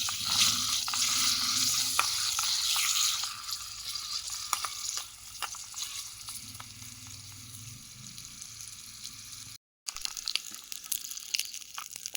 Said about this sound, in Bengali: পনিরটাকে একটু ভেজে নেওয়া যাবে,